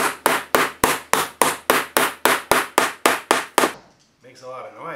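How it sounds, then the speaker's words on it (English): A hammer pounds a squeaky wooden floor being fixed under new flooring: thirteen sharp, evenly spaced blows land close and loud, then stop, and a voice speaks briefly at the end. "I'm going to try to pound it, see if it works. Grab me a hammer."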